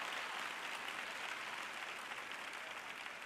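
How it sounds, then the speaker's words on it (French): Applause from a small audience at a sermon, dense continuous clapping that holds steady for a few seconds, close and fairly loud with no voices over it. "Bien, j'ai 3 personnes qui applaudissent là-bas."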